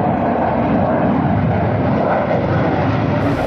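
Sukhoi Su-30 MKI military fighter jets flying overhead above Jorhat, a loud, continuous roaring rumble that fills the whole clip without letup and with no voices.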